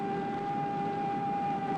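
A tidal wave warning siren in Honolulu holds a loud, steady wailing tone, unbroken and alone, with no one talking.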